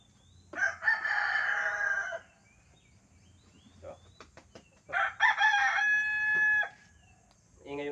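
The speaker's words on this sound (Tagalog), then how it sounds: "aking mga alagang manok" A rooster crows twice, loud and close, with a few short clucks in the pause between the calls.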